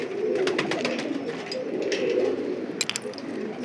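Pigeons at a fancy pigeon farm coo in a dense, continuous chorus, many birds close together, with a few metallic clinks near the end.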